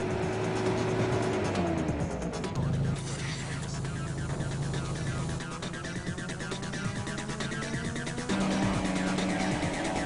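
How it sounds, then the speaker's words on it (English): A Holden Jackeroo 4WD climbs a soft dirt hill, engine revving and straining steadily while its note rises and falls, heard close and continuous, with a voice talking over it. "the Jackeroo easily ploughs its way up the hill that stopped the Toyota"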